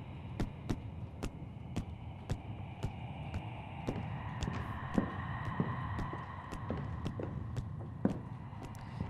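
Footsteps in a haunted-house horror game, sharp regular thuds about twice a second over a low humming ambience, fairly close and steady throughout.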